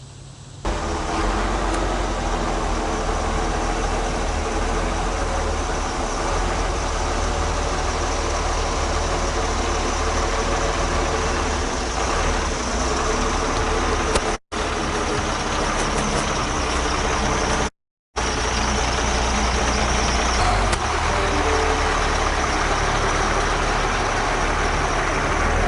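A commercial vehicle's engine runs steadily during CDL Class B straight-line and parallel parking practice between cones. The drone is close and continuous, with two brief dropouts midway and no voices.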